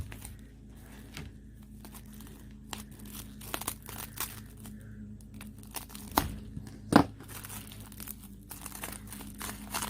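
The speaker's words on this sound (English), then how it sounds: "looks like wrapping paper. So let's get this opened up." Wrapping paper on a package is torn and crinkled open in soft, scattered rustles and crunches, with a couple of sharper rips near the end, quiet and close.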